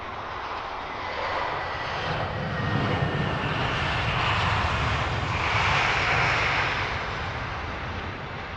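A Delta airliner on approach to land at Heathrow, its steady jet engine roar swelling slightly and holding at a moderate distance, heard alone without voices.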